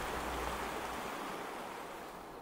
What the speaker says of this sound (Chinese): 在小河边听小河的声音